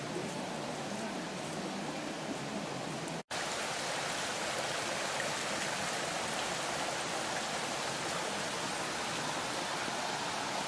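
Running water from a stream in a village by the woods, a dense, steady rushing that fills the whole clip at close range with only a momentary break.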